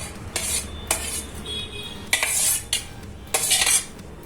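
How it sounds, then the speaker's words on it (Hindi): A metal spoon scrapes and clinks against a bowl while chopped capsicum is added and stirred into a cheese bread roll filling, repeated close scraping strokes in an uneven rhythm, with no one talking. "अब हम इसमें शिमला मिर्च भी डालेंगे"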